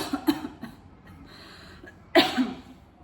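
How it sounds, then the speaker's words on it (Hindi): A couple of short coughs near the start, then a louder, harsher cough burst later, with quiet breathy noise in between. "मुझे खांसी भी इसलिए आ रही है"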